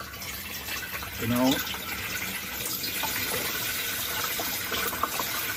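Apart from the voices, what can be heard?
fresh water poured into a Ford Nugget grey water tank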